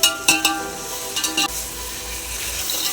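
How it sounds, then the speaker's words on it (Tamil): Tomatoes sautéing in a pan for mushroom biryani, with a few sharp scrapes and clinks of a spoon at the start and a steady sizzle beneath, close and fairly loud, with no voices. "தக்காளி பாருங்கள் இந்தளவு வதங்கிடுச்சு"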